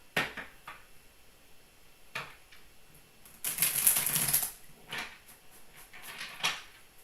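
A quick riffling shuffle of tarot cards in the middle, with a few lighter shuffling and tapping sounds before and after in a quiet room.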